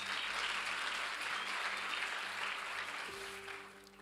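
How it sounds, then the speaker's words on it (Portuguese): A church congregation in Lisbon applauds steadily in a big indoor hall, a dense sustained wash of many hands clapping together that fades slightly toward the end, with a low hum underneath. "Dê uma salva de palmas para eles"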